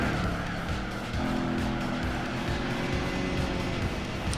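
A Superbird's engine drones steadily in Gran Turismo 4, the car straining in fourth gear; a continuous, fairly loud in-game motor hum with layered tones and no speech.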